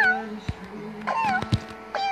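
Cartoonish cat meows from the climbing video game Icy Ropes sound several times over a faint music bed, rising and falling in pitch, and a few soft knocks punctuate the stretch.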